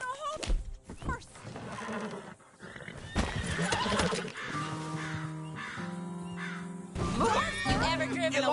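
A horse in Red Dead Redemption II whinnies amid busy game audio, with crow caws and clip-clopping hooves mixed in and voices talking over parts of it.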